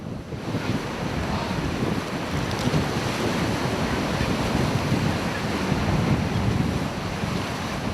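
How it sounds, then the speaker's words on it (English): Strong wind gusting to 55 knots roars steadily across the microphone on an island shore over the constant wash of heavy surf and large sea swell, with no letup throughout. "55-knot wind gusts and a large sea swell"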